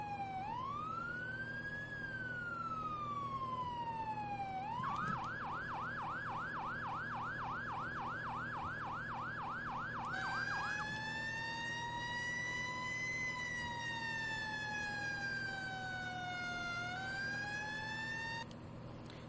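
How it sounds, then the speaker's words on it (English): Fire truck siren wailing loud and close during a semi-trailer fire response, rising and falling slowly, then switching to a rapid yelp before returning to a long sweeping wail, steady over an engine rumble. "The sirens that we have on this truck are pretty epic, very realistic"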